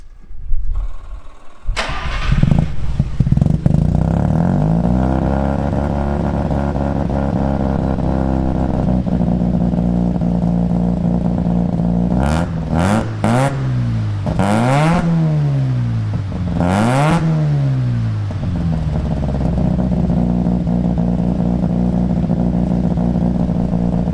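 A Mazda rotary pickup engine cranks and catches, then idles loudly through a Cherry Bomb Salute muffler and Vibrant Ultra Quiet resonator, with several sharp revs rising and falling partway through before settling back to a steady idle.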